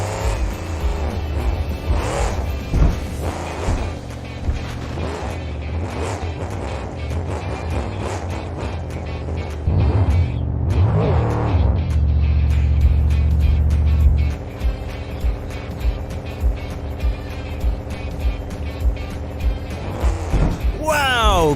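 A cartoon monster truck's engine during a nose wheelie stunt, balanced on its front wheels, giving a low, sustained roar that swells in the middle amid busy background sounds and voices.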